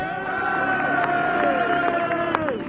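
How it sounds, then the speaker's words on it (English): Crowd cheering and hubbub at the Isle of Man TT as Joey Dunlop rides in on a 125 to win the 2000 Ultra-Lightweight race, a dense, loud roar with an engine tone sweeping through and talk mixed in. "Sure to be a tremendous cheer here as he swings in for the third time this week as a victor"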